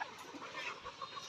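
Layer pullets, Kazi Highland Brown hens about 40 days old, vaccinated and beak-trimmed, cluck softly at a small poultry sale point while awaiting delivery, a faint, continuous murmur of bird calls without speech.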